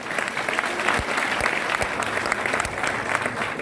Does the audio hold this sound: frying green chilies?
no